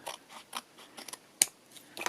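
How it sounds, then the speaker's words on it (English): Scissors trim the overlapping edge of paper on a handmade spineless journal, giving a sparse series of short, close snips and crisp cuts with quiet gaps between them. "So I'm just going with my scissors right to the edge"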